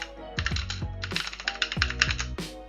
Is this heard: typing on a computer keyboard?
yes